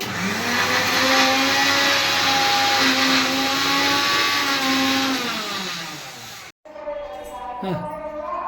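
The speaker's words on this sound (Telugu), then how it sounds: "ఇప్పుడైతే మిక్సీ అయితే అయిపోయింది ఇది పేస్ట్ అయిపోయింది" A kitchen mixer grinder whirs loudly and steadily while blending hibiscus leaves and flowers into a paste, then cuts off abruptly, followed by someone talking.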